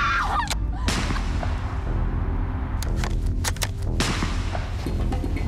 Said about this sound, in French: Deux coups de feu déchirent le silence de la nuit.